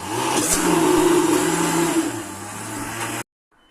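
A blender whirs steadily at high speed blending a smoothie, its motor pitch shifting slightly as the contents thicken, then cuts off abruptly.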